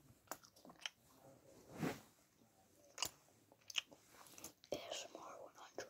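Kinder egg chocolate being bitten and chewed close up, with irregular soft crunches and mouth sounds, faint and intimate, interspersed with quiet breathy speech.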